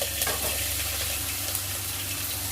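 Tomatoes dropped into a hot frying pan that already holds cumin seeds, giving a steady close sizzle with a watery hiss and faint stirring, no talking.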